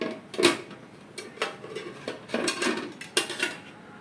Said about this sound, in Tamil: இப்போ நம்ம சிம்மில் வச்சு மூடி வச்சிடலாம்